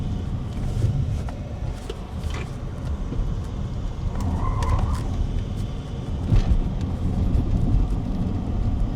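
A Lotus Eletre R electric SUV runs fast on a race track, giving a dense, continuous rush of road and wind noise with brief tire squeal and mechanical whine, steady and fairly loud.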